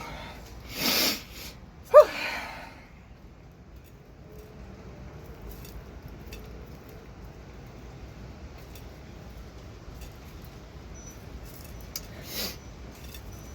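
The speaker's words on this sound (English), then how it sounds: "I have to sneeze." A person sneezes in a loft: a breathy burst, then a sharp, close sneeze about a second later, with a fainter huff near the end against quiet room tone.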